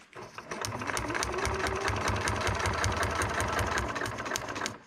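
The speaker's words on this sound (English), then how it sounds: "So right now, I'm sewing these two pieces on, and I need to sew that seam right down the middle." A sewing machine runs steadily at speed, stitching fabric pieces together for paper piecing, with a fast even mechanical chatter that starts abruptly and stops near the end, loud and close.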